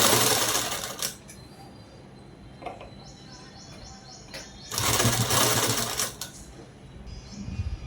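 A sewing machine stitching a long frock runs in two short bursts of fast mechanical whirring with quiet handling pauses between them, close and fairly loud, with no talking.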